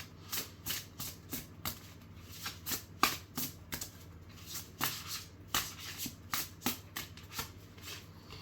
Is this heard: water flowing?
no